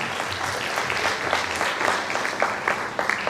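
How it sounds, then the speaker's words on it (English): An audience at an awards ceremony for government schools in Goa breaks into applause, a steady patter of many hands clapping at moderate volume for a few seconds. "Requesting our lovely audience to please give a big round of applause for our Sir Nagaraj Honnekeri."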